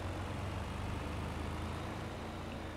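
Steady low engine drone of the Uppsala truck driving at about 90 in Farming Simulator 22, a continuous heavy rumble with no talk over it.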